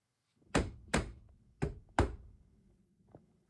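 Four sharp knocks and thuds of a door being fitted into a 7.5-tonne lorry during its horsebox-to-motorhome conversion, closely spaced and nearby, followed by a fainter tap in otherwise quiet surroundings.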